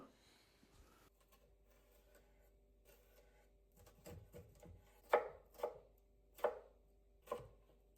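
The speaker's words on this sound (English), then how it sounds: "You want to chop the red pepper." Red pepper chopped with a knife on a board, first soft scattered cuts, then a handful of sharper, louder chops at a slow uneven rhythm, close by in a quiet room.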